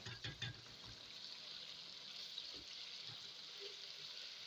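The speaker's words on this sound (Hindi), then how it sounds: "अब मसाले को हम जो है वो 2 से 3 मिनट के लिए अच्छी तरह भूनेंगे।" Masala for a chicken feet curry frying in a pot with a little water added, a faint steady sizzle throughout with a few soft clinks at the start.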